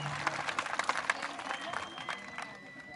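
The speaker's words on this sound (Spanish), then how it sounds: "Un aplauso para ellos, un aplauso." Crowd applause at a jaripeo in Jocutla, Guerrero, Mexico: dense scattered clapping from a sizeable audience, irregular and moderately loud, with a faint steady tone running through and some voices mixed in.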